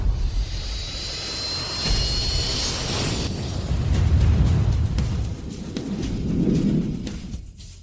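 Airplane coming in for an emergency landing, a loud, continuous roaring engine rumble with a high whine fading out partway through.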